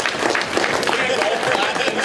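Audience applause for 8-bit Eric at a fan-convention panel, a steady crowd clapping that fills the whole moment at moderate loudness, with chatter mixed in underneath.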